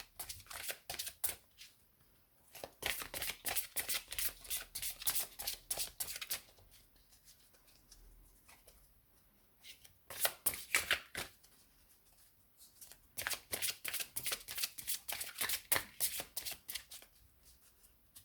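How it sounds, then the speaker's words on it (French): Tarot cards are shuffled in quick riffling bursts, two long spells of crisp rapid flicking broken by quieter pauses, close and soft, with no talk. "Moi, je vais déjà mélanger les cartes."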